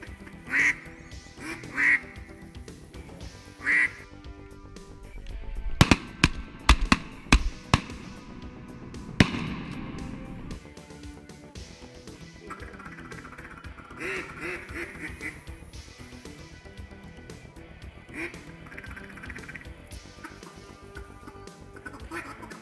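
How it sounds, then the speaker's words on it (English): Wood ducks and larger ducks quack in a handful of short, clear calls, followed by a burst of sharp, loud knocks and rustling, then a quieter stretch of scattered faint calls and outdoor background. "all the big ducks started moving in too"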